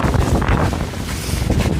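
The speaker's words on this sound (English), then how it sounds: "that is some wind. Dang, is it wet and windy?" Strong wind roars and buffets the microphone, loud and continuous, with a steady wash of rain beneath it, outdoors in Toronto.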